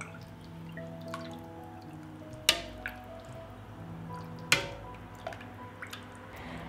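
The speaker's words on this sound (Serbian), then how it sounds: "Sada mleko sipam u čiste tegle" Milk, mixed with yogurt, poured from a pot into clean glass jars in a home kitchen: soft trickling and dripping, broken by two sharp clinks of glass and a few small wet taps.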